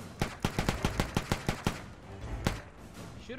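Rapid gunfire in the video game ArmA 3 Altis Life: about ten sharp shots in a quick, evenly spaced burst, then a brief pause and a couple more single shots, close and fairly loud.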